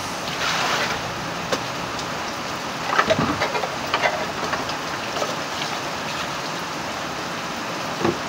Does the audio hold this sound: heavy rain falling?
yes